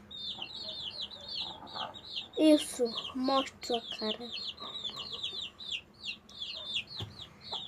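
Several chickens in a backyard coop cluck and chatter close by, with a bird sitting on top of a hen, over a steady chorus of high chirping birds; a person speaks briefly in Portuguese in between.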